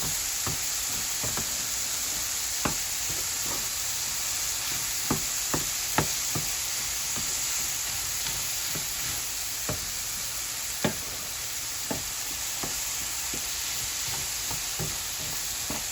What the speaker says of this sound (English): It's so important to just keep stirring.